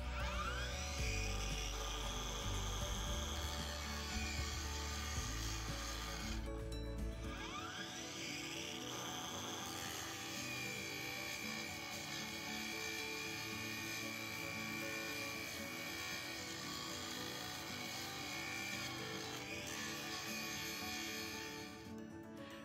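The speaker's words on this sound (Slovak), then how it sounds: "pri brúsení hrubovacím kotúčom znáša veľmi dobre aj dosť silný prítlak" A Parkside Performance 40V cordless XXL angle grinder, model PWSAP 40-Li A1, fitted with a roughing disc grinds under heavy pressure, a continuous loud metallic whine with shifting pitch and a brief load change near the start.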